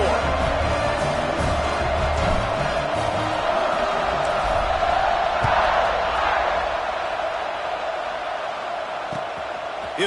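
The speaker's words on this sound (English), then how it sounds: "this crowd is buzzing after that last score" A packed football stadium crowd at a Penn State at Notre Dame game keeps up a steady, dense roar after a score, a continuous wash of voices with no breaks.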